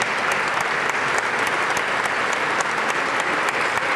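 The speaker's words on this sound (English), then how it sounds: "I want you to salute them with applause" A university audience salutes scholarship donors with sustained applause, a dense, even wash of many hands clapping that holds steady for the full stretch without any talking over it.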